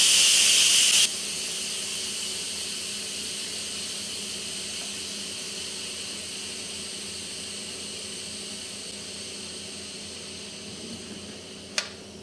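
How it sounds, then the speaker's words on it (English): An Instant Pot pressure cooker vents steam in a quick release: a loud burst of hissing opens the clip, then settles into a steady, softer whoosh that continues throughout, with a single sharp click near the end. "Let's turn the steam release handle to the vent position for a quick release."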